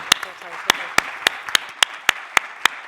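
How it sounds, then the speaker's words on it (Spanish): Audience at a conference on regenerative sports medicine claps, a steady bed of hand claps with sharp, evenly spaced accents at about three per second, like a few people clapping rhythmically, fairly close and loud. "Bueno, damos un gran aplauso."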